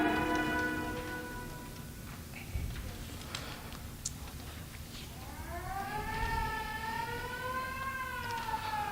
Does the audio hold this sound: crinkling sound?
no